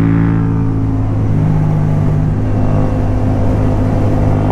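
A Yamaha MT-07 or R6 motorcycle engine held at steady high revs while leaning hard through a corner, a loud continuous droning whir with wind rumble and no talking.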